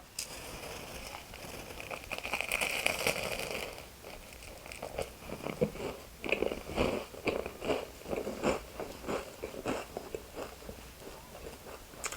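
Crunchy bites into a very crisp, flaky croissant from a bakery, several sharp crackling crunches followed by repeated close chewing, with no talking.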